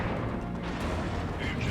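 Heavy cannon fire from a tank in the real-time strategy game Warhammer 40,000: Dawn of War 2, a dense rumbling barrage of booms and crashes filling a battle soundscape with no gaps.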